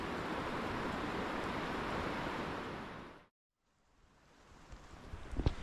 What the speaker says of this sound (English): you can hear there's a river right below me right there